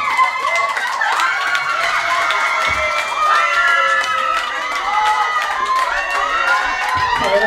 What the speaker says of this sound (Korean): 이번에는 우리 주인공 민호님 앞으로 우리 뜨거운 박수를 모실 거고요